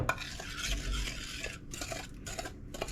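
Banana bread ingredients are mixed in a bowl with a utensil, soft scraping and stirring strokes in an uneven rhythm, close and fairly quiet.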